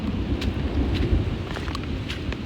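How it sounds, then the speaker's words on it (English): Thunder rumbles low and continuous through a rainstorm near a creek, a steady heavy roll under the hiss of falling rain, with no talking. "I'm sure you can hear that thunder right now"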